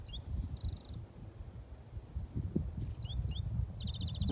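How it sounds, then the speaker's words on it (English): Birds sing on a green desert rocky slope at Dome Rock near Quartzsite, Arizona: two short bursts of high chirps and trills, faint and somewhat distant, over steady rumbling wind noise. "Listen to the birds."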